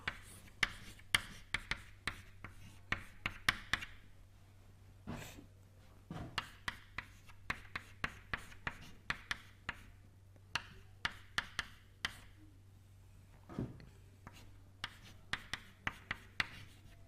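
Chalk or a marker strikes and scratches a board during a university lecture on turbulence, in sharp, irregular taps and short strokes with a faint hum beneath.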